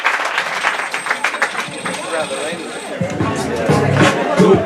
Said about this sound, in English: Big round of applause again for Mhairi!